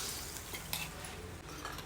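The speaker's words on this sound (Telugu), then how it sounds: "ఈ పోపు తీసుకొచ్చి ఇప్పుడు దీంట్లో వేసేయాలి ఈ పులుపులో కలిపేసుకోవాలి పోపుని" A hot ghee tempering is poured into tamarind rasam and stirred with a spoon: a brief sizzle, then soft scraping and liquid swirling, close up and alone.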